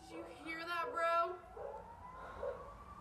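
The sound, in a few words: police siren outside at night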